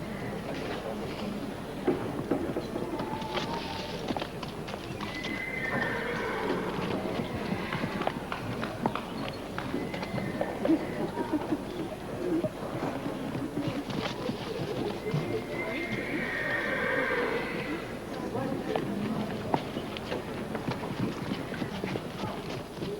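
Appaloosa horses at a Western show clop their hooves in a steady rhythm against a busy arena background, with a few whinnies rising above it and murmured talk mixed in.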